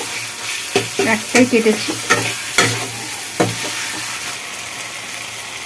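Chopped tomatoes dropped into a hot frying pan while cooking yogurt chicken, giving a run of sharp sizzling bursts and stirring clatter over a steady frying hiss, with a brief spoken line.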